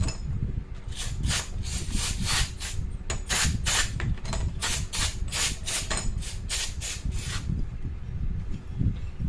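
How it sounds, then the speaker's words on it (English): Aerosol brake cleaner sprays down small engine parts in a bowl, heard as a long run of short, closely spaced hissing bursts, fairly loud and close, with faint clatter beneath. "I sprayed them down with some brake cleaner, and we'll hit it a few more times here"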